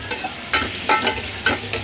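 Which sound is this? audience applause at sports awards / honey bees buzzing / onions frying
onions frying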